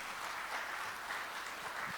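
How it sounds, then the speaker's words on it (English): An audience at an Artel 5G launch event applauds with a steady, even patter of many hands, fairly quiet and sustained for a couple of seconds with no talking over it. "Let's give them a big round of applause."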